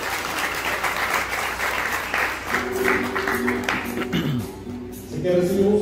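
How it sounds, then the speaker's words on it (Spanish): A crowd at a quinceañera applauds steadily throughout, dense clapping with a voice and some tonal music or singing cutting in over it in the second half. "Dale un fuerte aplauso."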